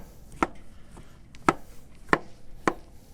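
A knife chops mushrooms on a cutting board in four sharp, separate knocks at a steady unhurried pace, with quiet pauses between them. No one talks.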